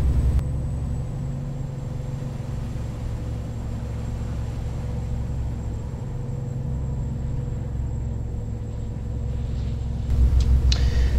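A heavy truck engine drones at a steady cruise in American Truck Simulator, a constant low rumble with a thin whine on top, holding the same pitch for a long stretch before a brief shift near the end.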